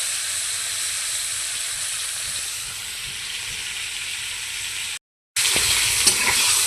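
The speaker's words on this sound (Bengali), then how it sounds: "ফুলকপি ভাজছি।" Cauliflower frying in a pan gives a steady, close broadband sizzle with occasional stirring scrapes, cut by a brief silent gap before resuming louder; no one speaks.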